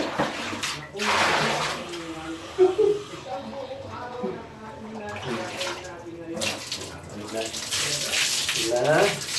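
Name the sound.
water running while bathing a pet dog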